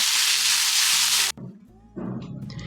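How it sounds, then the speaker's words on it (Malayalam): Slit green chillies sautéing in a pan for a gram flour vegetable curry: a loud burst of hissing sizzle cuts off abruptly, then quieter stirring and frying sounds follow, close by. "ആ പച്ചമുളക് പിന്നെ കീറിയിട്ട് ഇട്ട് കൊടുക്കാം. വീണ്ടും കുറച്ച് സമയം ഒന്ന് വഴറ്റി കൊടുക്കാം."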